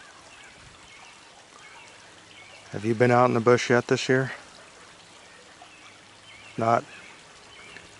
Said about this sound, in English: Hear the water traveling over the rocks.